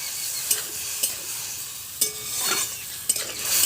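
Potatoes frying with mustard paste and spices as a spoon stirs them around a pan, a low sizzle beneath four distinct scraping knocks spaced roughly every half second to a second, close by.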